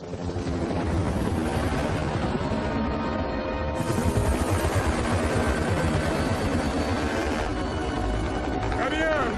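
A military helicopter's engine and rotor roar steadily and loudly through the whole stretch, close and continuous, with a brighter surge partway through.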